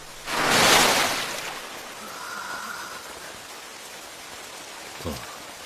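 Steady rain falls in an anime street scene, a soft continuous hiss with a louder whooshing swell near the start and a faint thud late on.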